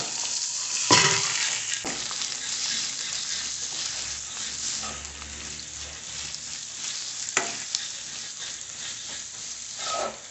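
Green chillies, curry leaves, ginger, garlic and onion frying in a pan for a dry soybean masala: a loud burst of sizzling as they go in, then a steady crackle with stirring scrapes and no speech.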